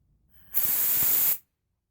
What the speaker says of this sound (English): See it all shooting out the nozzles.